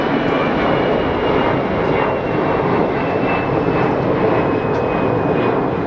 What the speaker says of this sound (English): Got an EasyJet departure.